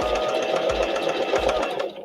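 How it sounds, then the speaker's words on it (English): A domestic sewing machine runs steadily in reverse to lock the end of a stitch in a seam, a close, continuous mechanical whirr with a regular rapid needle clatter and low thumps, slowing at the end. "This little lever right here causes the sewing machine to sew backwards."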